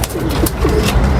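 Pigeons cooing at a pigeon-keeping loft in Lahore, soft throaty repeated coos close by over a steady background hum, with a few brief flutters, no speech.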